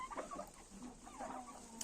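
Livin roosters kept among farm turkeys give faint, scattered clucks and short calls over a quiet background, with no one speaking.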